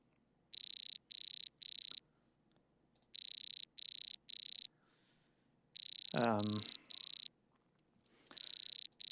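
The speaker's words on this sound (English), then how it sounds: "Okay, the next sound is the cricket." Cricket chirps synthesized in Softube Modular, in bursts of three evenly spaced pulses, bright and electronic, with a brief descending sweep cutting in once between groups.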